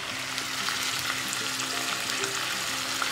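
Onions and tomatoes fry in a karahi for mutton karahi, giving a steady, close sizzle with faint stirring throughout and no voices.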